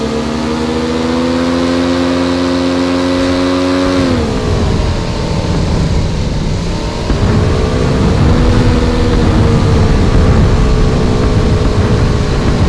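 A PUBG vehicle engine drones steadily and loud, its tone dipping and shifting as the motor changes speed partway through, then settling into a rough continuous rumble.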